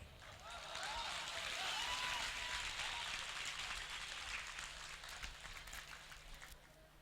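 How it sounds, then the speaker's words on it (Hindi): Crowd at a gathering in Kolkata breaks into sustained, dense applause that swells, then slowly tapers, with a voice speaking over it. "मैं उनका नाम लेता हूं और पूरी फिजा जो है वो तालियों से गूंज जाती है"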